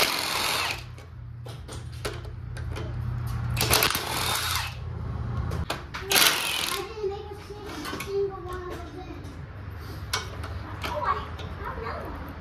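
Bolts come off the top of a 1978 Ford F100 short bed 351 engine as a tool whirs and rattles in short bursts, mixed with metallic clinks and voices talking nearby.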